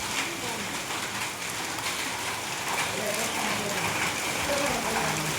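Hailstones falling steadily in a dense, even patter, like heavy rain striking hard surfaces, with a voice faintly audible beneath the downpour.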